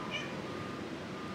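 A single short cat meow, faint and somewhat distant over a low background hiss.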